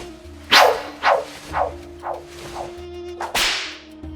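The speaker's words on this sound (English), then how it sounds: "Beaumont draws his fire whip and lashes out at the scavenger" A blazing fire whip lashes out repeatedly in an animated Shadows of Brimstone board game playthrough: a series of loud, swishing cracks, roughly half a second apart, ending in a big final lash over a low, steady musical drone.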